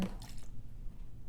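Water poured onto an African violet leaf cutting for watering, giving a brief wet squishing drip at the start that quickly fades into quiet background.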